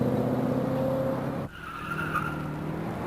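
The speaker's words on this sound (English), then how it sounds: "First, make a series of light throttle upshifts, checking that we have all 4 gears." Car with an AOD automatic transmission on a road test, pulling through light-throttle upshifts: a steady engine drone that drops abruptly as a gear changes, then settles at a lower hum with a higher whine above it.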